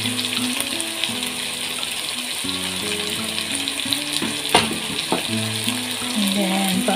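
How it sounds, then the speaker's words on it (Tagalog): Bitter gourd sautéing with onion, garlic and tomato gives off a steady, close sizzle with occasional stirring clatter, while background music plays beneath it. "Igisa-gisa lang sa sibuyas, sa bawang at tomato."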